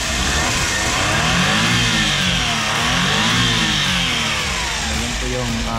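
A turbocharged Suzuki DA64W 4x4 mini vehicle's engine revs loudly and close, its pitch rising and falling in repeated swells over a continuous mechanical roar.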